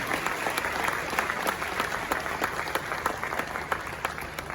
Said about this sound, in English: Shall we do a resounding round of applause